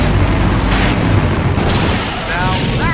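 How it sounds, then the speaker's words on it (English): A loud, sustained explosion roars through a Full Throttle Remastered video game cutscene, with deep rumbling boom and debris noise filling the full three seconds and a faint voice near the end. "Now that's an explosion, ladies and gentlemen."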